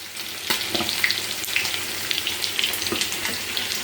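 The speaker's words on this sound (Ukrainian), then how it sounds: "так якраз на сковорідку поклала, смажиться." Steady sizzling of chicken frying in a pan, with broadband crackle throughout and occasional louder pops.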